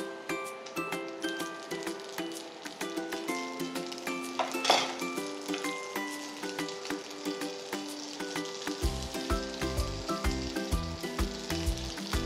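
Sausage and rice cake skewers sizzle in frying oil, with a steady crackling fry under tonal background music and a brief burst of hissing near the middle.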